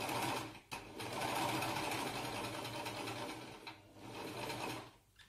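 A sewing machine runs steadily, stitching gathers into dress fabric as the cloth is fed in bit by bit. Its close, continuous whirring pauses briefly a few times between runs.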